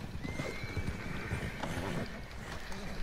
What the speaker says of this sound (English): Yo, I'm calming a horse right now.